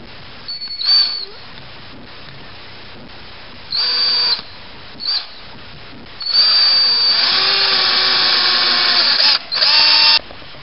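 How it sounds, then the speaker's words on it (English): A small power drill with a 1/16-inch bit bores through a pipe in repeated bursts: short whining spins, then a longer sustained grinding run and a final burst, close and loud over a steady background hum. "where you drew your line is where you're going to drill with"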